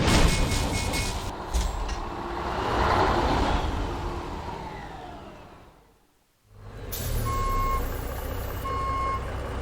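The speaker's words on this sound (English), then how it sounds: "Today we're taking a bitumen branded Mack R equipped with a Cummins NTC Big Cam." Bitumen-branded Mack R truck with a Cummins NTC Big Cam engine in American Truck Simulator, a loud diesel drone that swells and fades to near silence, then resumes with regular reversing beeps.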